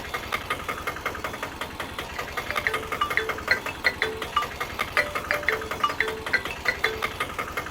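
An auto-rickshaw engine runs steadily, a throbbing, knocking idle with an even rhythmic pulse throughout and no talk over it.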